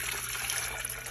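Water pours steadily into a kettle as one continuous close rushing, splashing stream, with no voices.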